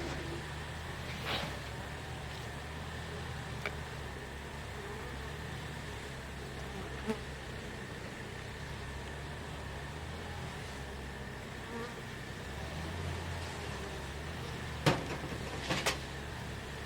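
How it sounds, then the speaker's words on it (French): Steady insect buzzing fills the air, a constant drone of many honeybees around a hive with occasional brief knocks and clicks nearby. "Ici, les abeilles ont une très très belle couleur dorée."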